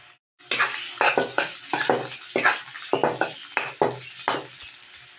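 Smoked fish (tinapa) stirred in a pan for lumpia: a close run of loud, rhythmic scraping strokes of a utensil against the pan with a sizzling frying hiss, no talking.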